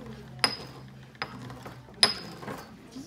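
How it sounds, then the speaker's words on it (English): Old pastel chunks, mostly blues and greens, being ground with a pestle: a few sharp scraping knocks and grinding strokes spaced irregularly over a low hum, close and moderately loud. "And I'm just gonna grind them up with a pestle."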